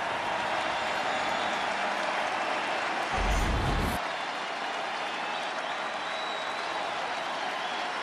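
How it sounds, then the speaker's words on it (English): A baseball crowd at a World Series game between the Arizona Diamondbacks and Texas Rangers roars and applauds in a wide, continuous wash of noise, swelling briefly midway. "Gets this crowd revved up a little bit."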